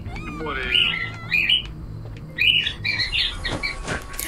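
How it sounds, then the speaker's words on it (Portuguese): Within the video game Identity V, a bird squawks in several sharp bursts, loud and close, scattered over a few seconds against a low game background hum. "como é que grava alguma coisa com esse passarinho do Wesley"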